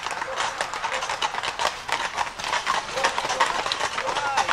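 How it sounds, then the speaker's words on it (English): Hooves of horses pulling a carriage clip-clop in a steady trotting rhythm on a hard road on a hiking trail, fairly close, with murmuring voices and outdoor noise mixed in. "I thought I saw some horses coming."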